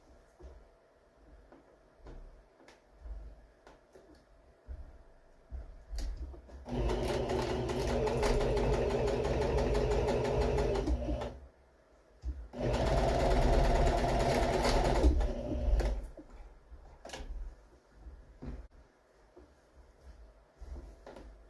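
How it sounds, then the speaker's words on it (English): A sewing machine stitches a couch cover in two loud bursts of rapid whirring, the first about five seconds long and the second shorter, separated by a brief pause and framed by quiet handling noise. "I'll go ahead and stitch"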